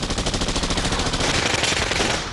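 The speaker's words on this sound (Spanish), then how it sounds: "El tiroteo se intensificó." Sustained automatic gunfire during an embassy siege, a dense, loud, continuous rattle of rapid shots filling the whole stretch without pause.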